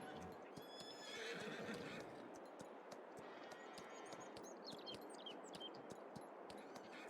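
A horse in Farming Simulator 22 lets out a whinny over the rhythmic clip-clop of hooves, with faint bird chirps in the background, rendered as fairly quiet game audio.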